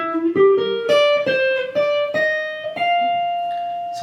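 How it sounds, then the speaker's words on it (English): A clean single-note jazz guitar lick from a guitar solo, played as a quick run of plucked notes that rises and then holds a ringing final tone, heard up close with no voices. "now the next lick is going to go like this."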